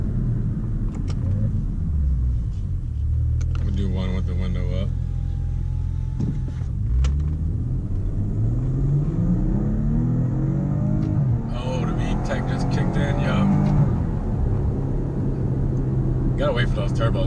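A Maserati engine idles and pulls with turbos spooling, heard from inside the car with the window up as a low continuous rumble and rising whistle, while people talk over it.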